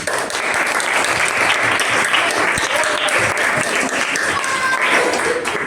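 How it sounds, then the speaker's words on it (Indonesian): A classroom of pupils claps for a classmate named Mika, a loud, continuous patter of many hands lasting several seconds with little let-up. "Kita beri tepuk tangan untuk Mika"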